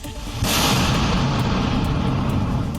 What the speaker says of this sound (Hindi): जल शक्ति विभाग के कर्मचारियों ने इस चट्टान पर पहले धमाका किया, जिसके बाद इसमें दरारें आ गई।